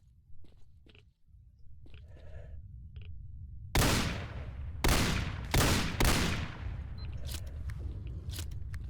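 Gunfire in Call of Chernobyl, four loud close shots in a quick uneven series over a low ambient rumble, with a few quieter clicks and thuds before and after.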